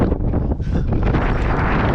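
Strong wind buffets the microphone in a continuous loud roar with gusty rumbling outdoors near an abandoned mountain mine, no other sounds standing out.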